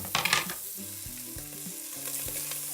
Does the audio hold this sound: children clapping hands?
no